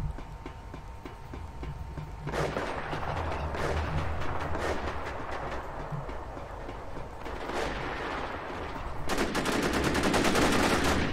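Gunfire in the video game War Inc. Battlezone: sustained rapid automatic shooting with dense crackling bursts over a steady rumbling background, growing louder toward the end, with no voices.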